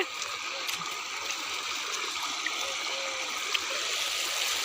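A flooded river rushes past in a continuous broadband roar, steady and moderately loud, close by.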